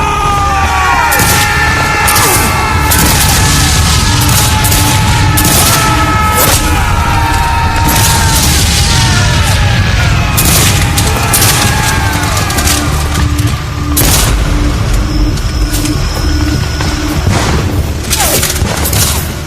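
Dense, continuous volleys of musket fire in a Gettysburg Civil War battle scene, with booming shots and crackling fusillades layered over a loud battlefield roar for the whole stretch.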